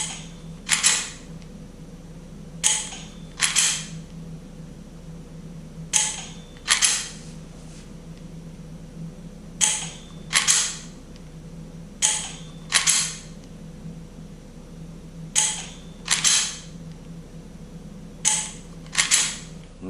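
Dry-fire trigger pulls on a G-Sight ELMS laser training pistol, sharp close mechanical clicks coming in quick pairs at irregular intervals over a low steady hum, with no talk.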